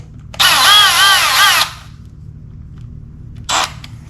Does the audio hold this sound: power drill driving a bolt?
yes